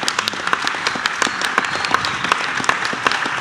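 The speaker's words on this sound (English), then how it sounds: "Please give them all a round of applause." A live audience claps in a steady round of applause for the performers at a reggae music event, dense sharp claps close by and sustained for the whole stretch without any speech.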